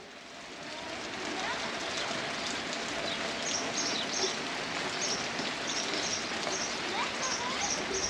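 A heavy second rain shower in hot weather pours down steadily and evenly, a dense hiss of drops hitting surfaces, with faint bird calls chirping at intervals above the rain.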